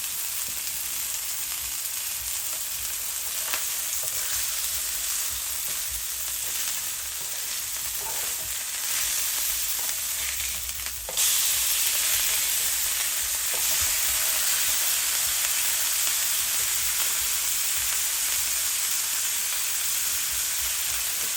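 Veal and ground beef smash burger patties sizzle steadily on a hot surface while being stirred, a continuous close frying hiss with occasional scrapes and no talk.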